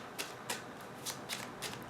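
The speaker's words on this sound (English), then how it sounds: "Let me just shuffle." Tarot cards being shuffled in quick, crisp riffles, about five short bursts of papery flutter close by, no talking.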